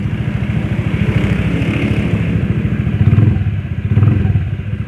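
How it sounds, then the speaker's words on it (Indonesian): A motorcycle engine idling after a CVT roller replacement, a steady close-up chugging putter with a slightly uneven rhythm and a couple of brief swells near the end. "Ini suara mesinnya kayak gini."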